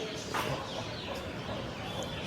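A small flock of growing chicks, one or two hens and mostly young roosters, clucks in a busy, continuous murmur, with no single call standing out.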